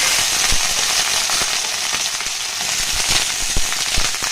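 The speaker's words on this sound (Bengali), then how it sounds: "তেল গরম হয়ে গেছে, আর আমি এখানে বেগুন আর সিম দিয়ে মেথি শাক ভাজবো" Fenugreek greens with eggplant and beans frying in hot oil, a loud, steady sizzle dotted with sharp pops and crackles, with no talking.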